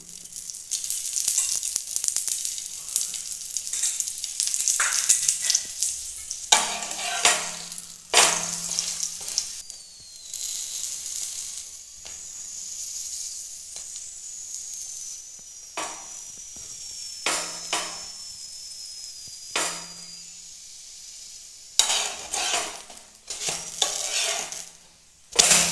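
Aloo paratha fries in oil on a pan, giving loud bursts of hissing sizzle that rise and fade repeatedly, with brief scraping and light clinks between them.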